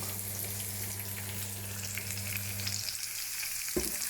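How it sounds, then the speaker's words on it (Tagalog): Bitter gourd with eggs fries in a pan, giving a steady close sizzle with a low hum underneath that stops near the end, followed by a brief clatter. "mag-fry tayo ng ampalaya na may itlog"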